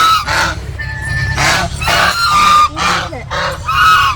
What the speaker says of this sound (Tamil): ஒயிட் கலரில் இந்த இடத்துல வாத்து இருக்குல்ல